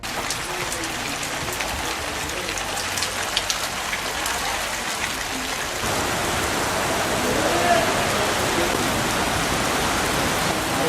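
Heavy rain from Cyclone Vardah pours down steadily around Chittoor, a dense, loud, unbroken roar of water that grows slightly heavier midway.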